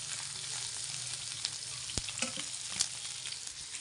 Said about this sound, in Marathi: काना काना बघितलं तर कडक तळून घ्यायचं